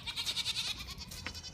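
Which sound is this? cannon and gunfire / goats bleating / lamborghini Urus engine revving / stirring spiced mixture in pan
goats bleating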